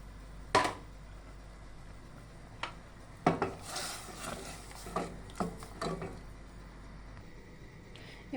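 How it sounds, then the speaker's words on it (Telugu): A utensil stirs mushroom powder into mushroom chicken soup in a pot, giving intermittent scrapes and light knocks against the metal over a faint, steady background hum. "ఇప్పుడు ఉండలు లేకుండా కలపాలి."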